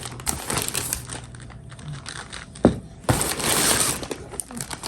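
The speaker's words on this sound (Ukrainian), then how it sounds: "Розпаковую разом з вами." Packaging from an Amazon order crinkling and rustling as it is unpacked, with close plastic crackles and sharp snaps in irregular bursts.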